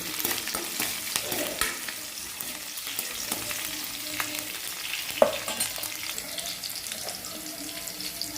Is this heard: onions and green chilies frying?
yes